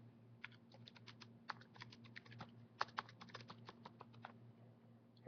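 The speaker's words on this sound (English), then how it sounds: "I type the same thing here." Rapid keystrokes on a computer keyboard in irregular bursts, close and fairly quiet over a steady low electrical hum, with a few louder clicks scattered among the typing.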